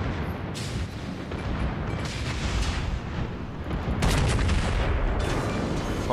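Naval guns boom in a World of Warships battle: repeated heavy, rumbling shots and blasts at mid distance over a continuous low roar, with a louder burst partway through.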